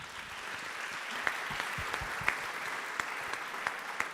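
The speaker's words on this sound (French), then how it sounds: "Sous vos applaudissements." Audience applause at a gala for regional ambassadors in Occitanie as guests are welcomed onstage: a dense, even patter of many hands at moderate distance with a few sharper claps poking out.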